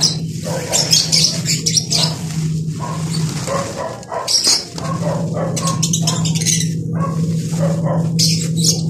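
Busy chirping and tweeting from caged lovebirds, steady and close, with a constant low hum underneath and an occasional dog bark in the mix.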